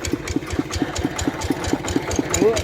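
A small engine powering a homemade water-pump vehicle with a five-speed gearbox chugs close by in a fast, even, knocking rhythm, running steadily throughout with a faint whine near the end.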